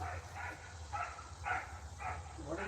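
A dog named Jetta barks at someone walking by, a steady run of about five or six muffled barks at an even rhythm, heard from some distance indoors and fairly faint.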